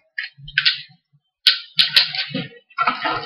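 A Sentinel Prime Transformers toy is folded up by hand, giving sharp plastic clicks and ratcheting snaps from its joints in short irregular bursts, close to the ear, with quiet gaps between.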